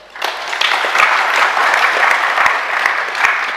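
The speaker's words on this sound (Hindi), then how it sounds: "इस बात के लिए तो आप अपने लिए तालियां बजा सकते हैं।" A crowd at a Jain religious discourse applauds, many hands clapping in a loud, dense burst that starts abruptly and holds steady to the end.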